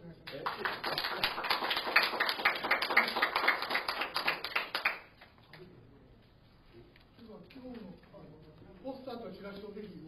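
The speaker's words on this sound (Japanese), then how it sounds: "もう一度、拍手をお願いします。" Lecture audience applauding in a hall, a dense burst of many hands clapping for about five seconds before it stops abruptly, followed by quieter speech.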